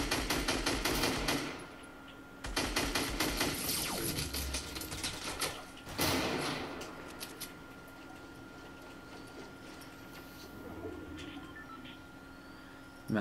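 Rapid bursts of automatic gunfire from a Fortnite Battle Royale duos match crackle in dense, loud volleys, pausing briefly around the second mark, then continuing in quieter, scattered shots with ticking effects underneath.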